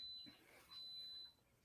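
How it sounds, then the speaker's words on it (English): A home oven beeps with a thin, steady high-pitched tone in two stretches, faint and distant beneath a low background hum. "You heard my oven? Yeah, the beeping."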